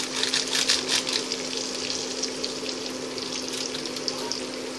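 Chili powder, salt and turmeric sautéing in hot oil for Tamil fish curry, a steady hissing sizzle that holds evenly throughout, close and moderately loud, with a constant hum underneath.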